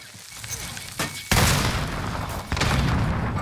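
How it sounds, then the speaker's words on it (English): A grenade blast with gunfire in the video game Caldera, loud booming bursts that hit suddenly and fill the mix, with a second heavy burst following shortly after. "Grenade out."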